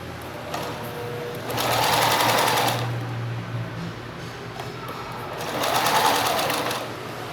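A sewing machine stitches a fabric pouch diagonally across a corner, running in two loud bursts of fast, steady whirring separated by a quieter pause, close by and with no voices.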